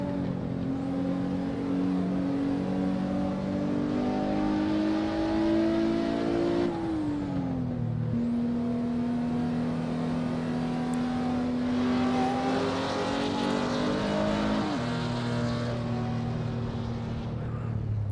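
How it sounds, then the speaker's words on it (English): A V10 car engine in the Assetto Corsa racing game screams at very high revs, climbing through gears with brief dips at each shift, loud and sustained with no voices. "Can hear it revs really high"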